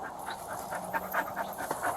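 A dog pants close by in rapid, rhythmic breaths at moderate volume during a sheriff's roadside encounter, steady across the whole stretch with no speech over it.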